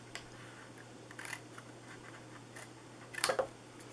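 A paper trimmer slices through cardstock while a memorial-themed treat box is assembled, giving a faint, quiet scrape with one sharper swish near the end against a soft background hum.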